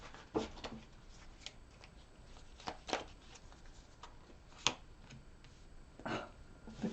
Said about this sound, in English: Get a couple more shuffles going here